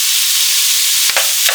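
Ground beef and chopped onion sizzle steadily in a hot frying pan, a loud, close hiss, with a couple of brief scraping stirs as the meat is broken up.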